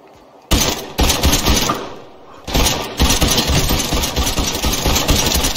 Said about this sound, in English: A little too much shooting.